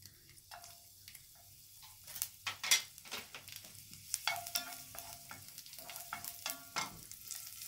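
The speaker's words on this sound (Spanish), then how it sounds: "Bueno, ya hemos calentado el aceite. Estamos poniendo ahí. Vamos a poner primero el ajo." Garlic sizzling in hot oil in a pan while cooking pasta with shrimp in chipotle cream, a soft steady frying hiss broken by sharp clicks and stirring taps of a utensil against the pan, close and fairly quiet.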